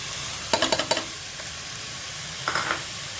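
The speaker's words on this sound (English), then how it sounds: "Now along with this I will add into it finely chopped 3 onions" Finely chopped onions cook with minced meat in a dry pan without oil for Parsi sali kheemo, a soft steady sizzle broken by two brief bursts of stirring scrapes, close and quiet.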